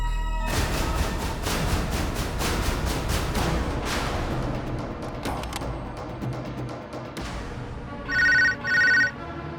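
A telephone rings twice in quick bursts near the end, cutting through a loud, dense background of music and noise that fills most of the clip.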